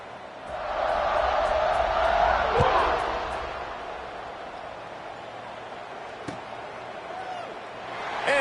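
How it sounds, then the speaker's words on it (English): Crowd noise fills an American football stadium after a score, a broad steady roar that swells early and then settles into a lower murmur, with a commentator talking over it. "this crowd is buzzing after that last score"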